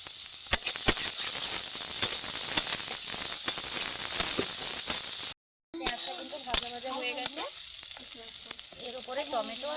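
Chopped onion, tomato and green chili sizzle steadily in a hot pan with a dense frying hiss, a brief dropout midway, then bubbling crackle and a faint voice for paneer sandwich filling.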